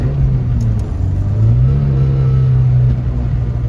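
A Honda Civic with a swapped K24 engine revs loudly and close, a deep droning exhaust note that climbs and holds steady before easing back slightly, with no voices over it.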